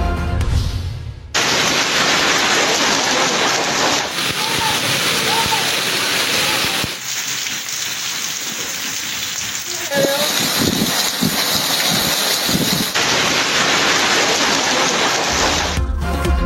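Heavy rain pours in a dense, loud, continuous hiss across Khyber Pakhtunkhwa and Azad Kashmir, broken by brief cuts where a voice speaks over quieter patches.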